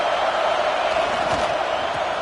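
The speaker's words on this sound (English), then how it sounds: "Listen to the crowd energy here in the early going." Stadium crowd at an American football game, a steady dense roar of many voices that holds at an even level for a couple of seconds, with no clear commentary over it.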